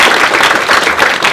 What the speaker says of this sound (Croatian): Molim vas da ga pljeskom pozdravite.